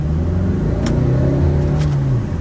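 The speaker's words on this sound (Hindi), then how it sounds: "गाड़ी को करा रेड लाइन," A Tata Nexon diesel engine revs hard in first gear toward the red line, a loud, steady, close-up rumbling roar that holds strong throughout without any talk.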